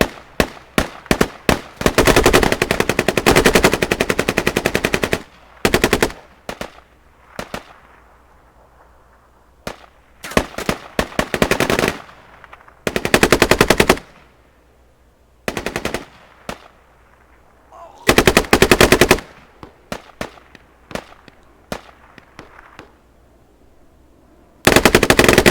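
Machine gun fire in a multiplayer online war game match, with loud close bursts of rapid automatic shots separated by short quiet gaps and scattered single shots.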